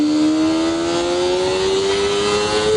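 A Kawasaki ZX-25R motorcycle engine revs high in low gear at around 9000 rpm, a loud, close, steady whine with its pitch slowly climbing.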